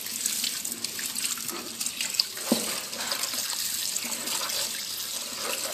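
Tap water running steadily into a sink, a continuous close splashing hiss with a couple of small knocks, no voices.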